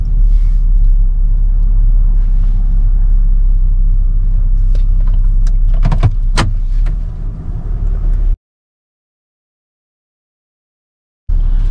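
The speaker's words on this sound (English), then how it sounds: "There's a lot of traffic, so you gotta be careful." Downtown road traffic rumbles loudly and steadily, with passing vehicle noise and a few sharp clicks. It cuts abruptly to silence for several seconds before the rumble returns.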